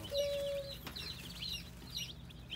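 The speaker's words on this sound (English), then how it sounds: "Yeah, they got chickens." Farm chickens and fluffy chicks cluck and chirp in a steady low chatter, with a few brighter peeps standing out, fairly close and quiet.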